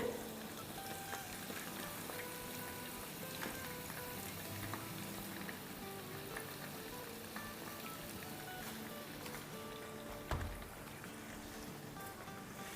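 Chicken pieces frying in a pan for an orange chicken dish, giving a steady, moderately loud sizzle and crackle throughout with one brief louder clatter near the end.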